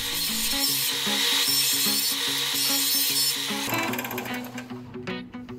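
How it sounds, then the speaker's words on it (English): Steady, close abrasive grinding of a sander against the edges of a copper plate, running continuously before tapering into scraping rubs. "Quick little sanding to get rid of all the sharp edges."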